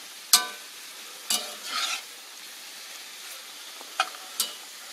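Shrimp fry in a cast iron pan for tacos, with a soft steady sizzle under several sharp scrapes and stirs of a utensil against the pan, close and clear.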